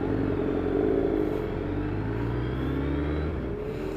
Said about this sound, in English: As you can see, the traffic is horrendous.